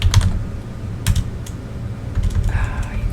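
Computer keyboard typing in the survival game 7 Days To Die: a few scattered clicks over a low background rumble, with a brief higher chirp near the end.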